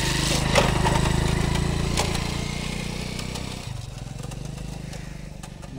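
A motorcycle engine runs with a steady, close rumbling throb that stays loud throughout and shifts to a lower, rougher tone partway through.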